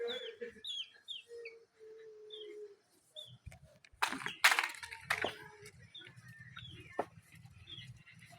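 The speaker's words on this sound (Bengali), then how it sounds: "তো এই যে মুরগিগুলো খাচ্ছে" Chickens clucking softly while eating outdoors near a village riverbank, scattered close clucks and short calls, with a burst of rustling and pecking noise midway and a low background hum.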